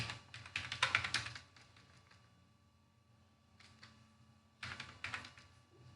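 Clattering bursts of computer keyboard typing, fairly quiet, come in two clusters with a lull between, no voices over them, while someone writes Spring Boot 2.x.x code.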